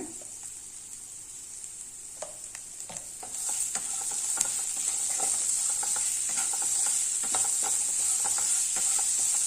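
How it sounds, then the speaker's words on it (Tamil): Ground masala with salt sautés in a pan for capsicum rice, a steady sizzling hiss that grows louder partway through, broken by light stirring scrapes. "கொஞ்சம் வதங்கட்டும்"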